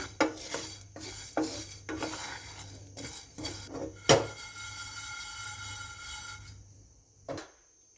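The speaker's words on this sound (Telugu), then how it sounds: "ధనియాలను వేయించుకోవాలి లవంగాలు చెక్క యాలకులు ఇవన్నీ వేసుకొని మంచిగా వేయించుకోవాలి" Coriander seeds, cloves, cinnamon and cardamom are dry roasted in a pan, with a spoon scraping and stirring in a steady rhythm of rasping strokes and one sharp metallic clink, then quiet.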